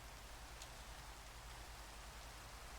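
Rain in the video game Minecraft makes a quiet, even hiss with a low rumble underneath, unbroken and unchanging throughout.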